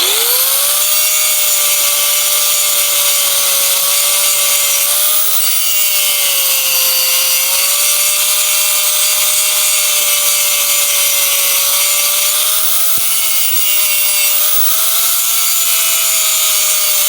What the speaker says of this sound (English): Man, that grinder gets hot.